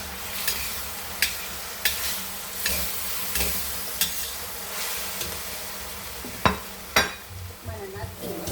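Spring onion sizzling and frying in a pan while being stirred, with scraping strokes of the utensil standing out at irregular intervals against a steady crackle.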